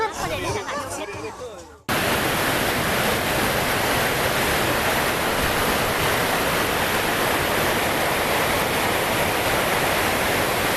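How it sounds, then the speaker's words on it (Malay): A fast-flowing river at a campground rushes loudly and steadily, a dense unbroken roar of water that cuts in abruptly after a couple of seconds of voices. "Tengok sungai cepat."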